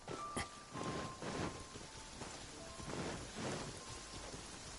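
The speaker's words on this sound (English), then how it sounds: "Taking a stroll in the middle of a downpour certainly rouses the spirit" A downpour hisses steadily in a video game, a soft continuous patter of rain with gentle swells of heavier gusts and a faint low rumble, quiet and without any voices.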